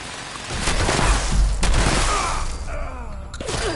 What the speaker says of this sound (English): Someone kicked on turrets.